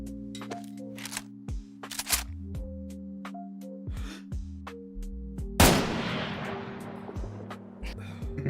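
A hunting rifle fires in the video game DayZ, a single sharp loud crack followed by a long decaying echo, set among game sounds with other earlier impacts and clicks and no speech.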